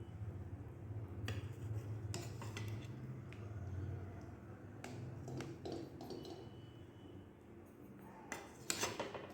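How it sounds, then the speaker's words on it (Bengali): Boiled mangoes lifted one by one out of a pot for aam panna, with scattered metallic clinks and scrapes of a utensil against the pot over a low steady background, plus a few water drips. "এইভাবে আমগুলো তুলে নিচ্ছি"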